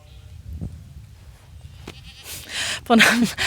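Goats on a small Istrian farm bleat in a few short calls close by, the loudest burst near the end, with a quiet outdoor background and no speech.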